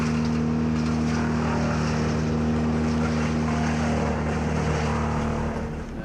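A Vermeer tree-work machine's engine runs steadily at close range, a loud constant drone with strong low harmonic hum and broadband mechanical noise, easing slightly at the end.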